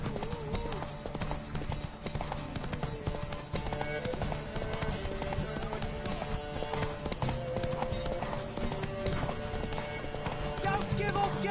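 A horse gallops in Witcher 3, its hooves clip-clopping in a rapid, steady rhythm under background game music, with occasional neighs and a voice talking over it.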